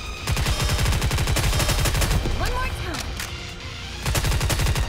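Rapid automatic gunfire from the mobile shooter game Goddess of Victory: NIKKE, loud bursts of repeated shots at the start and again near the end, with a softer stretch between carrying game effects.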